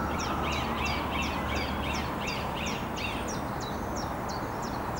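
Blackbirds call repeatedly near a river with mallards, a string of harsh, rhythmic notes repeating steadily over a constant outdoor background of rushing water.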